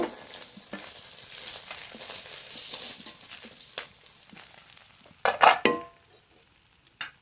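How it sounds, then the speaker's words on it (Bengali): Fish frying in oil with a steady broadband sizzle, interrupted by sharper crackles and spatters near the end, likely as pieces are moved or added, for a taro curry with rohu fish. "একই তেলে বাকি মাছগুলো ভেজে নেব"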